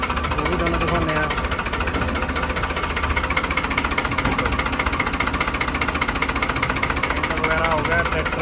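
A Farmtrac 60 tractor fitted with power steering idles close by, its engine knocking in a steady, rapid rhythmic chug throughout as someone talks over it.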